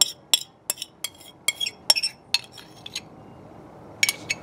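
A metal utensil scraping and tapping against a Dutch oven while spreading a meat mixture, a series of sharp clinks and scrapes at an uneven rhythm, close by, then a short pause before a final few taps.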